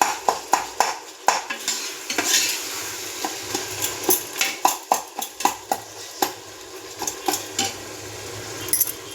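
Tomatoes being stirred and sautéed with rock salt in a pan for Dindigul chicken biryani, a steady run of close spoon scrapes and clinks against the pan over a soft sizzle, with no talking.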